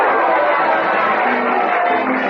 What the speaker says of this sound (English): A cheering crowd is following Dominga Capati